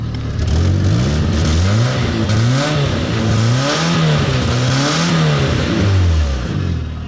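An old, smoking BMW E90 car engine runs close by, repeatedly revving up and dropping back in steady waves over a constant loud mechanical drone.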